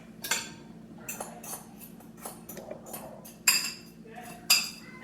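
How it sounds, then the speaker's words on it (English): A utensil stirring eggs and cheese in a bowl makes light, irregular clinks and scrapes against the bowl, two brighter taps standing out near the end, close up over a quiet background hum. "And then I mix it up."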